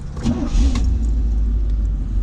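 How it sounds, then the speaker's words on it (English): A carbureted 1987 Pontiac Trans Am engine cranks briefly and catches, settling into a loud, steady idle rumble close to the microphone, with no voices. "This car starts so nice."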